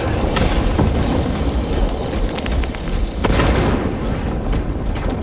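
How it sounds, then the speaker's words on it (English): A krak grenade blast in Warhammer Space Marine 2, a loud, heavy boom and rumbling explosion that fills the whole stretch with dense crackling debris and a few sharp pops. "Using crack grenade."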